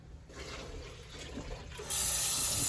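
Hot water runs from a kitchen tap during Jamaican home cooking, a steady close splashing rush that grows noticeably louder and brighter partway through as the flow increases.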